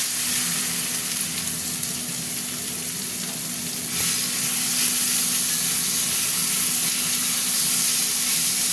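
Chopped tomato and onion fry in hot oil with dried chilli and bay leaf, a continuous close sizzle and hiss that swells louder midway as the pan crackles steadily, no talking.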